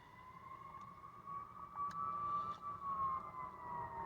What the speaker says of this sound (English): I don't know if you can hear the emergency services going by